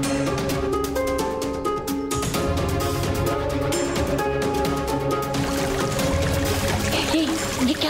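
Water poured out in a steady, continuous stream that trickles and splashes throughout, fairly loud and close, with a faint background murmur and no clear speech.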